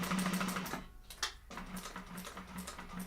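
A sewing machine running a super long basting stitch through clear vinyl, rapid steady mechanical chatter close by, a short stop with a couple of clicks, then the even stitching resumes.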